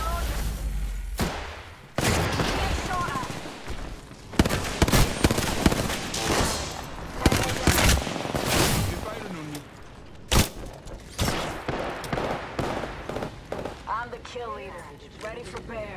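Rapid bursts of gunfire and explosive shots in the battle royale shooter Apex Legends, loud and close, firing in clustered volleys with brief gaps, over game sound effects and a voice talking.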